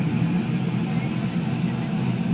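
Steady low rumble of a Chevrolet SS with a 6-speed manual idling in park, the parking brake set, holding an even drone throughout.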